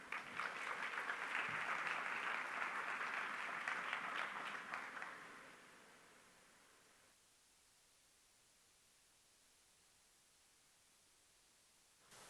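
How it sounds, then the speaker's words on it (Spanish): A crowd applauds to welcome a speaker to a panel on resilient infrastructure: about five seconds of dense, steady clapping that fades out and leaves near silence. "Recibamos con un aplauso al señor Thomas Folch"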